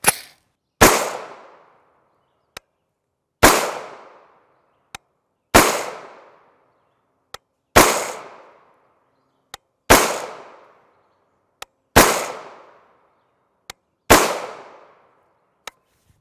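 Single gunshots from a CMMG MK57 5.7x28mm pistol, an AR-style radial delayed blowback gun firing Hornady Critical Defense rounds: seven sharp, evenly spaced reports about two seconds apart, each with a short decaying tail, interleaved with faint clicks.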